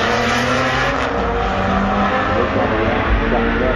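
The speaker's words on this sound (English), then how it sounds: "Brandon takes the Supra down to go 10-7 at 124 miles" A Toyota Supra in a forced-induction sport class makes a drag-racing pass at an import drag event, a loud, sustained engine roar at full throttle heard up close and holding steady throughout.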